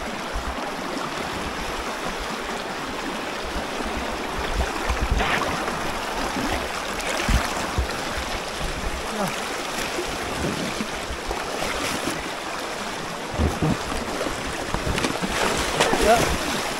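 River rapids rush around a boat stuck on rocks, a steady close roar of churning water with scattered splashes, while voices shout over it.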